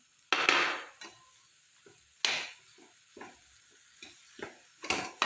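Ground fenugreek and mustard stirred into a dried prawn and raw mango pickle, with a spoon scraping and clinking against the pot in several loud strokes separated by short pauses.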